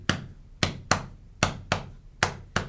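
Sharp taps on a chest mimic a heartbeat, seven firm thumps spaced in uneven pairs and singles, close and crisp in a room, with no talking.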